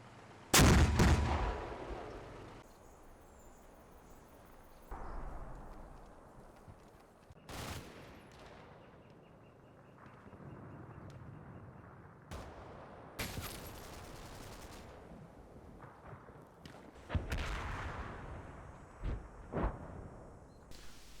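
Machine gun fire in the wargame Combat Mission Red Thunder, several loud bursts and single heavy reports spread across a quiet battlefield ambience, some close and sharp, others distant and rumbling.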